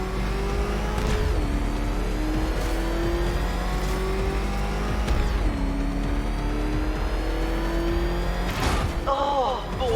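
An old engine in the Batman: Arkham Knight video game revs hard and continuously, pitch climbing and dropping in repeated surges with tire squeal near the end, loud and close under talking.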